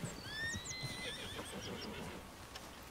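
A horse in the Red Dead Redemption 2 video game gives a loud, quavering whinny over a background of soft ambient noise and faint hoof movement.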